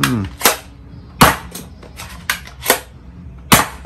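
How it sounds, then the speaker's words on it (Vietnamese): A toy foam dart gun, a Magic Gun 2 in 1, fires at a Spider-Man head target with about six loud, sharp snapping shots at an irregular pace, close by. "Bây giờ mình sẽ test bắn cây đầu người nhện đằng này."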